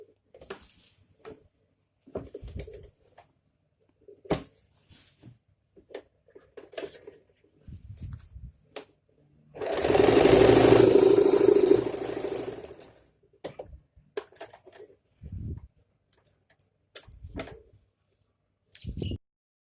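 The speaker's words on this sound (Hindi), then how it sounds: "अब हम इस गैप को भी सिलाई लगा के बंद कर लेंगे।" A sewing machine stitches closed the elastic waistband gap on a ladies' straight pant, running in one steady rapid burst of about three seconds amid scattered handling clicks and fabric rustle.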